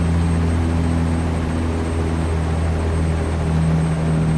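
Truck engine in American Truck Simulator lugging up a hill during a gear shift, a steady low droning rumble with constant hum and no talk.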